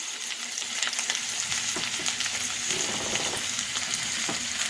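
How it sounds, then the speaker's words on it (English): Chopped onion, celery and carrots sautéing in a pan for turkey gravy, giving a dense, steady close-up sizzle with scattered small crackles and faint stirring. "Just gonna saute these."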